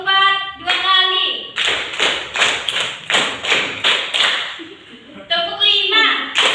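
High school students in a classroom clapping game clap in unison, two rounds of four crisp beats played back to back in a steady rhythm, with speech just before and right after.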